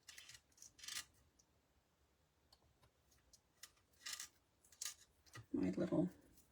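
Scissors snip through card in a few short, close cuts, the last burst louder, with quiet pauses in between.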